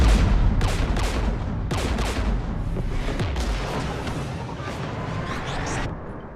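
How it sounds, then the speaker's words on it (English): Dense, continuous gunfire and booming blasts from a Mass Effect battle rattle loudly in rapid overlapping volleys, with sharp repeated shots over a rumbling low end and no talk. "We're taking fire."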